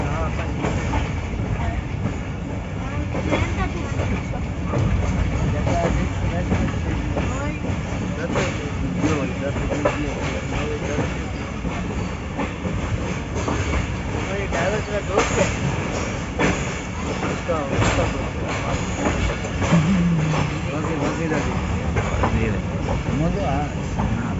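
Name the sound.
Tezgam Express passenger train approaching Lahore Junction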